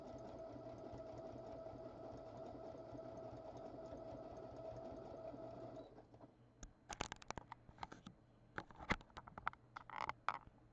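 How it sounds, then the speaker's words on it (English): A home sewing machine runs a fancy decorative stitch in a steady, even whir for about six seconds, then stops, leaving faint clicks and handling noises. "I got kind of a fancy stitch. So I'm getting that stitched on."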